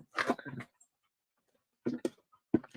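A dog whimpering and breathing heavily indoors in a few short, close bursts separated by a quiet gap of about a second.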